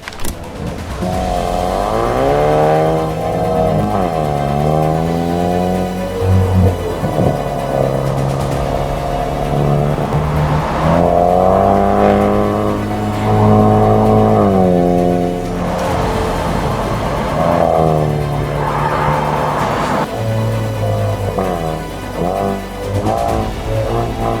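A Changan UNI-V FL car engine revs repeatedly up and down, loud and close, the pitch rising and falling through several gear-like sweeps with no talking.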